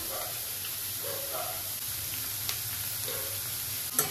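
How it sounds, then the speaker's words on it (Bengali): Vegetables for fried rice sizzle and fry in a pan, a steady close hiss with occasional faint clinks of stirring and brief background voices. "ভাজা ভুজি, এটা ফ্রাই হোক।"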